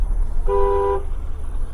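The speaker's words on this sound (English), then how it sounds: "Yeah, that's why I honk." A single short car horn toot rings out over a low engine rumble inside a vehicle driving in icy weather in Richmond, BC, Canada.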